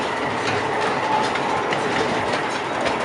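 A miniature train at Adventure City amusement park runs past on its track, a loud steady rumble with rhythmic wheel clatter close by and no talking.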